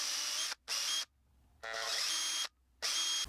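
A power drill whines in three short bursts, drilling pilot holes in a wooden fishing lure, stopping and starting with brief silent gaps between them, close and fairly loud.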